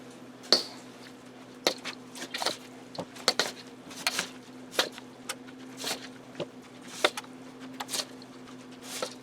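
Spoon stirring a homemade casserole in a pot, giving a series of soft wet squishes and scattered clinks against the dish, close and fairly quiet over a steady low hum.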